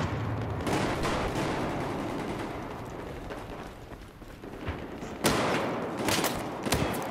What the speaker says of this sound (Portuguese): Dá tiro de lançador de granada